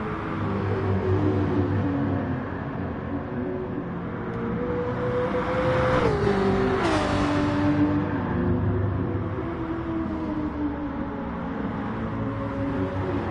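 Porsche and GTR race cars at Le Mans, a loud engine roar with a rising and falling pitch as a car sweeps past, its tone dropping sharply at the pass, then steady racing noise afterward.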